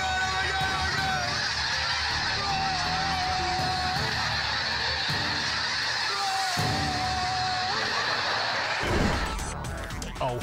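A flock of angry geese honks loudly and continuously for several seconds, overlapping calls close by, ending in a burst of scuffling noise.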